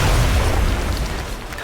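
A grenade going off in XCOM 2, a loud deep boom that fades into a rumbling tail.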